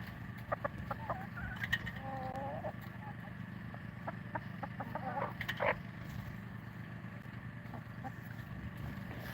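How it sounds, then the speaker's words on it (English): Homestead hens cluck in short, irregular bursts, several close together early on and another louder cluster later, all fairly quiet over a constant low background hum. "And the majority are hens."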